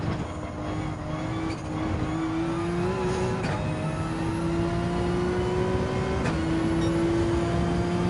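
A 2017 Lexus RC F GT3 race car engine in Gran Turismo 7 drones steadily at high revs, its pitch climbing slowly and holding loud and constant throughout.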